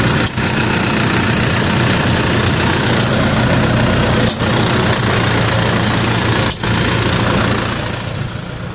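A Farmer 10260 tractor engine idles in a field, a steady, close, loud diesel rumble that runs throughout with only a couple of momentary dips.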